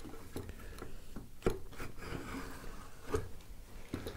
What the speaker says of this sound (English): So next thing I want to do is cut in the knife line here.